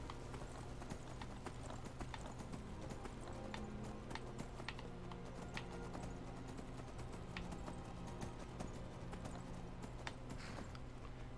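Steady clip-clop of horse hooves trotting at an even pace in Skyrim, moderately loud, continuing throughout over a low background hum.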